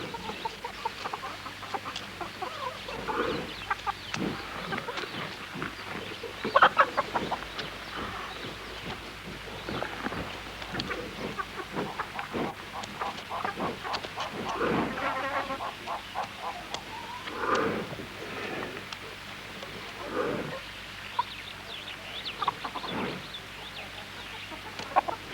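Domestic hens cluck softly and intermittently in an outdoor setting, scattered close calls over a low steady background hum.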